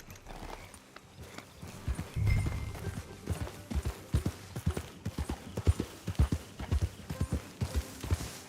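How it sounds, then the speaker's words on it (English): Horse hooves in the Western video game Red Dead Redemption 2 beat out a rhythmic clip-clop at a steady riding pace, close and continuous, with a brief snort or whinny early on. "Just get back on the horse and let's go."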